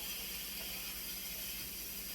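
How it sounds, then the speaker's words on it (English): A pressure cooker vents steam in a continuous, even hiss, close and steady with no break. "But as you hear the pressure for the steam, being released from this."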